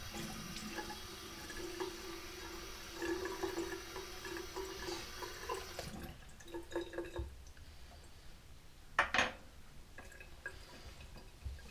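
Tap water running into a mug in a home setting, a steady broadband rush for about six seconds that cuts off, followed by a few quieter drips, clinks and handling sounds.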